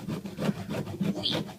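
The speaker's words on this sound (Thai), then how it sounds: "ใช้มีดที่เป็นแบบ ซิกแซกแบบนี้นะคะ" A serrated knife saws through a dense bread loaf, rasping back and forth in short rhythmic strokes, a soft scratchy sawing repeated about six times at close range.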